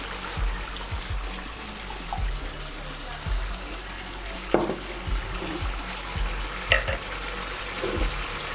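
White wine is poured into a hot pan for creamy prawn linguine, giving a soft trickle and faint sizzle over scattered low kitchen knocks and clatter.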